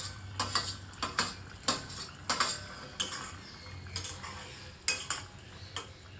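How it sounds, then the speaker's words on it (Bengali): Soaked prawns being stirred in a cooking pan with pointed gourd: a spoon scrapes and clinks against the pan in a regular rhythm of sharp strokes over a quiet background, close and fairly soft. "আবারও ভালো করে নেড়ে চেড়ে নিচ্ছি।"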